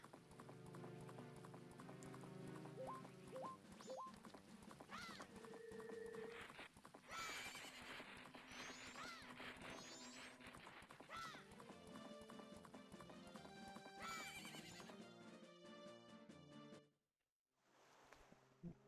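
A horse galloping across the game world of Majora's Mask, quick clip-clop hoofbeats with whinnies over a busy layer of game music and effects, ending in a short near-silent gap.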